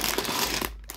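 Plastic bags holding LEGO pieces for the bee cottage set 21241, one packed with plates and pins, crinkle and rustle close to the mic in a dense, continuous burst that thins out briefly near the end.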